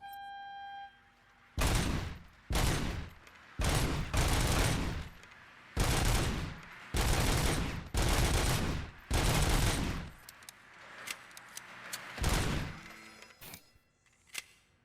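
RoboCop's service weapon fires in the RoboCop City video game: about eight loud, close bursts of rapid gunfire spaced roughly a second apart, each burst sharp and sustained, followed by a few scattered single shots.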